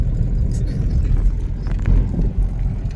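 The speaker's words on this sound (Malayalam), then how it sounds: "ചേട്ടന്റെ ഡ്രൈവിംഗ് ഒക്കെ നല്ല സ്മൂത്ത് ഡ്രൈവിംഗ്" A car travels along a road, heard from inside as a steady low engine and tyre rumble with a smooth, even drone and no speech.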